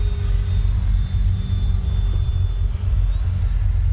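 A Freewing JAS-39 Gripen RC jet flies overhead outdoors on a calm day, its electric ducted fan giving a thin, steady whine above a low wind rumble, moderately distant and continuous with no talking.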